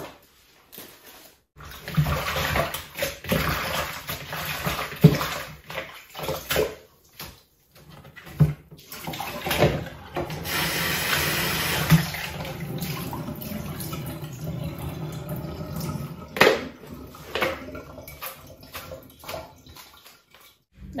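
Freshly cut lettuce rinsed under running water for a Vietnamese breakfast salad, a steady wash of water with sloshing and splashing surges and a few clunks, continuous and close, with no talking over it.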